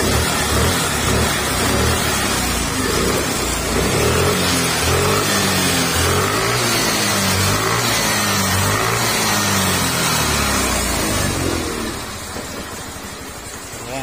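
A Suzuki Burgman 125 scooter engine, run low on oil, revs loud and close with a buzzy, rising and falling pattern, then drops in volume near the end.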